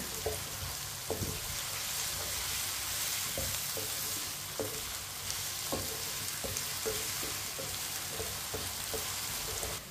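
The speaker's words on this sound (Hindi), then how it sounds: "अब आलू और प्याज को 4-5 मिनट के लिए इसी तरह पका लेंगे चम्मच चलाते हुए" Potatoes and onions fry in a pan over a medium flame, a steady sizzle running throughout with spoon scrapes and clinks at irregular intervals as the mixture is stirred.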